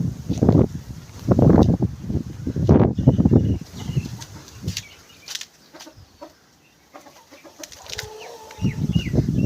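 Hens cluck and squawk nearby in a village in Punjab, Pakistan, in uneven bursts, with some wing flapping and brief quieter stretches between the calls.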